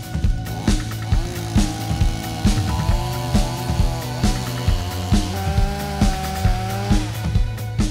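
A Stihl chainsaw engine runs steadily, loud and close, with rhythmic revving pulses roughly every half second and no speech.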